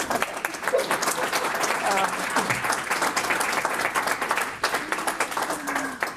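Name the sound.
audience clapping at a meeting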